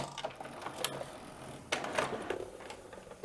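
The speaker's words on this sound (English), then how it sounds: "As you open the front door, you can see the two printer spaces for the cartridges" The front door of an HP Deskjet 3760 printer is opened, giving a series of faint plastic clicks and ratcheting mechanical rattles, with a sharper cluster of clacks partway through, close by in a quiet room.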